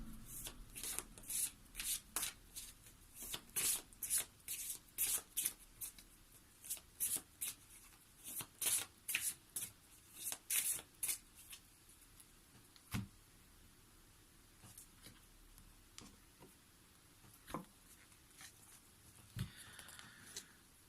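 Oracle cards shuffled by hand in a quiet room, a long series of soft, regular flapping riffles that taper into sparse single taps and card placements.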